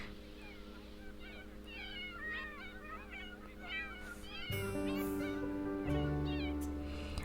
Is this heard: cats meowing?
yes